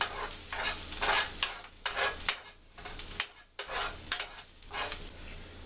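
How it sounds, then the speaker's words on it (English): Onions brown in a hot pan with a steady, soft sizzle, broken by repeated scraping strokes of a spoon stirring them, close but fairly quiet and without speech. "Our onions are browning up nicely."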